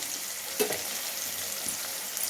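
Onions sizzle and crackle steadily in a hot pan, with a soft scrape or stir partway through, close up and with no talking.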